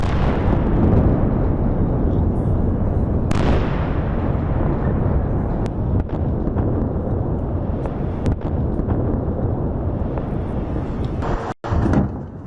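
News footage of missile strikes in the Iran–Israel war carries a heavy continuous rumbling roar of explosions. Several sharp cracks and a sudden heavy blast near the end punch through the din.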